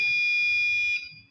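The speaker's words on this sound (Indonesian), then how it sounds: "dan buzzer akan berbunyi selama 5 detik, di mana itu menandakan bahwa hujan sedang turun" A buzzer on an automatic water-level and rain-sensor embedded system project sounds a loud, steady high electronic tone for about a second, then cuts off, with faint low room noise beneath.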